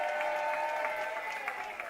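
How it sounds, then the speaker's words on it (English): A crowd applauds at a live show, dense continuous clapping that stays loud and even from start to finish, with no talking over it. "Give yourselves a round of applause for coming out."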